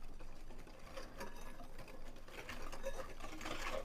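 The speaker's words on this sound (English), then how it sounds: "we're just going to whisk it around" Quick, faint rhythmic whisking of milk batter in a bowl for peach cobbler, a soft rapid clicking and swishing that continues through the short stretch.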